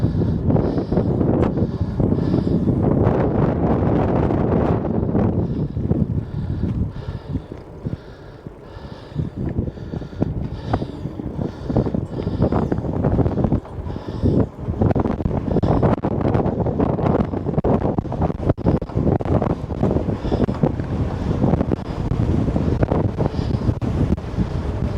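Strong, steady wind buffets the microphone throughout a springtime bike ride through residential subdivisions in Missouri, a loud continuous roar that dips briefly and then surges back, with no talking.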